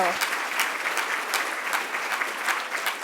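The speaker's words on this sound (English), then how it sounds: "Big round of applause to Manpreet as well" An audience at a cultural diversity awards ceremony breaks into steady, dense applause, many hands clapping together at moderate volume for a few seconds, with a faint voice underneath.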